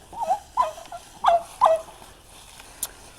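Farm turkeys gobbling in a few quick, warbling bursts spaced about half a second apart, moderately close, followed by a quieter pause and one faint short call near the end.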